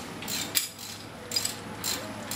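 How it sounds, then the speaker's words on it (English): A small ratchet clicking in short bursts while turning a brake caliper bolt on a 2007 Honda Civic, close and crisp, three quick clusters of metallic ticks. "That's why we used the small ratchet."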